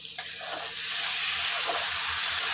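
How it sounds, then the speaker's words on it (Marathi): Dried shrimp hit a hot frying pan and set off a steady bright sizzle that stays close and fairly quiet, with faint stirring underneath. "आता याच्यामध्ये टाकतो आपण सुकट किंवा बोंबे झिंगा"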